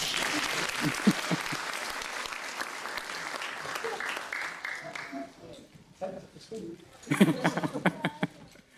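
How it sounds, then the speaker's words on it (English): An audience at a Royal Institution lecture applauds, a loud sustained round of clapping that fades after several seconds, followed by someone talking and some scattered sounds. "Again, a massive round of applause for Tim."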